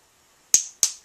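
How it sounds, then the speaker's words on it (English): Two sharp, isolated hand claps about a quarter second apart, close and crisp over silence. "Clapping."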